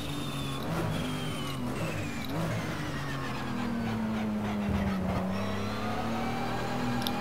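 A racing video game car engine and gearbox, a continuous engine drone whose pitch rises and falls through gear changes, steady and moderately loud throughout with no talk.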